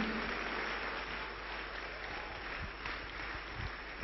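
A church congregation applauds in a steady, dense wash of clapping that holds at an even level throughout.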